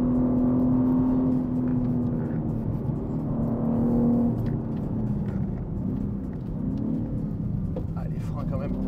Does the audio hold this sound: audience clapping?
no